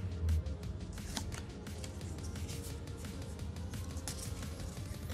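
Pokémon card booster packs from the Burning Shadows set are torn and handled up close, giving a steady, faint rustle of foil wrappers and cards throughout with no talking.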